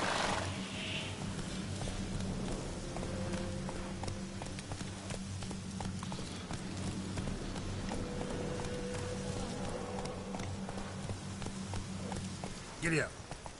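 Horse hooves clip-clop at a steady running rhythm in The Witcher 3, close and continuous, under game music and a voice urging the horse on.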